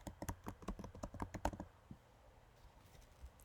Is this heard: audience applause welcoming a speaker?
no